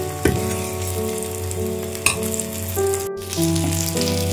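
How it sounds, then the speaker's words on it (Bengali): Pitha batter sizzles and crackles steadily in a hot pan as a spatula spreads it thin, a close, continuous fry with no voices. "পুরো ব্যাটারটা খুন্তি দিয়ে আস্তে আস্তে টান টান করে নিচে"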